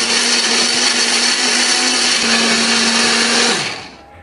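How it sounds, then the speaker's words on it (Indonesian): An electric blender grinds a spice paste of shallots, garlic, galangal, turmeric, candlenut and ginger, a loud steady whir that runs alone for about three and a half seconds and then spins down. "Bumbunya akan kita haluskan ya."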